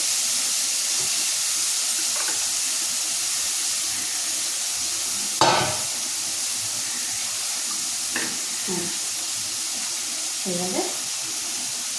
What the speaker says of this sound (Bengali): এবার আমি মশলাটা দিয়ে দিই